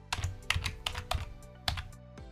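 Computer keyboard being typed on, a handful of sharp key clicks in an uneven rhythm with short gaps, close and moderately loud with no voices.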